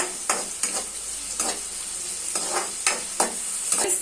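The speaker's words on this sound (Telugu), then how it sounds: "పచ్చిమిర్చి ఉల్లిపాయలు కూడా ఫ్రై చేసుకుందాం చూడండి ఫ్రెండ్స్ ఫ్రై చేసుకోవాలి కొంచెం బ్రౌన్ కలర్లో" Green chillies and onions frying in a pan toward brown, with a constant sizzle punctuated by regular, rhythmic spatula scrapes repeating roughly every half second, close and fairly loud, without speech.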